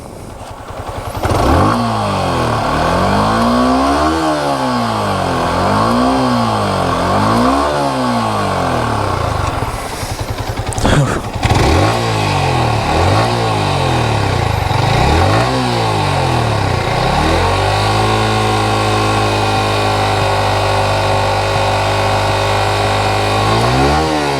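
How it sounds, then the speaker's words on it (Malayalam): A Yamaha R15 V4 with its stock exhaust revs repeatedly, rising and falling in loud rhythmic bursts, then settles into a steady rumbling idle, close by with no talking. "ഇതാണ് ഈ വണ്ടിയുടെ സൈലൻസർ സൗണ്ട്"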